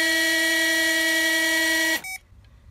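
A steady electronic beep with strong harmonic tones sounds loud and continuous for about two seconds while a car auxiliary water pump is being tested, then cuts off abruptly, followed by a brief quieter blip and near silence.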